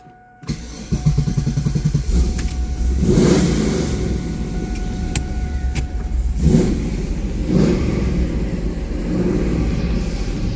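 F-body car engine cranking and firing up after a brief silence, then settling into a loud idle with several rising revs and steady rumbling, close by.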